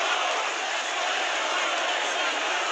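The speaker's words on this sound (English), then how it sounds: "you can hear the crowd roaring to keep King Kenny's, you know, motivation high" Boxing crowd at a fight between King Kenny and Faze Temperrr, roaring in a steady, dense wash of voices that holds loud and unbroken throughout, with no distinct speech standing out.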